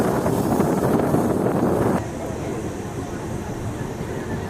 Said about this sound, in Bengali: আমাদের ট্রেন এখন ক্রসিং করবে গুলমা রেলওয়ে স্টেশন এবং ঢুকে পড়বে গুলমা ফরেস্টে।